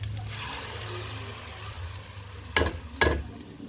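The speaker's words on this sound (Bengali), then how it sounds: "এখন পেঁয়াজ রসুনগুলো ভালো করে কষিয়ে বাদামি কালার করে নিব" Onion and garlic frying in a pan until browned, a steady sizzle under low background hum, then two sharp scraping strokes of a spatula near the end.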